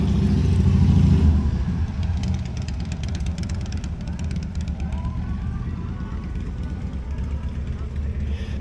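Motorcycles roll into an outdoor car show, a low rumbling engine drone that swells early and then settles into a steady idle beneath someone talking nearby.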